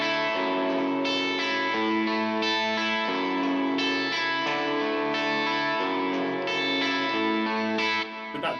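An electric guitar played through a Kemper with distortion, delay and reverb rings out a sustained melody line, its held notes shifting in steps and trailing echoes, loud and alone.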